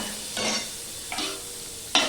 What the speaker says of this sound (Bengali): দিয়ে আমি ছোট করে দিয়ে আমি আলুটাকে ভেজে নেব।